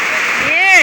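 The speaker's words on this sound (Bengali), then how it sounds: "খুব বৃষ্টি হইতেছে, ঝড় বৃষ্টি" Heavy rain in a storm, a dense continuous hiss of downpour filling the whole moment, with a voice briefly sounding over it.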